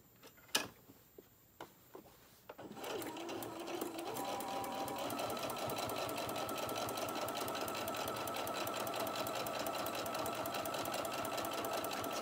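Sewing machine stitching a plaid fabric hot pad, a few soft clicks and knocks at first, then a steady, rapid mechanical whirring hum running continuously at close range.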